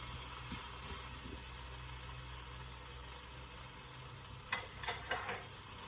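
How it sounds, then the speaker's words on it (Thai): Snow lotus being stir-fried in a pan over low heat gives a steady, soft sizzle, with a few quick scraping stirs near the end. No one speaks. "แล้วเขาจะผัดไปเรื่อยๆนะคะเพื่อนๆใช้เวลานานหน่อยประมาณสักครึ่งชั่วโมงค่ะ"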